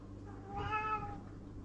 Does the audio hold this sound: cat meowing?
yes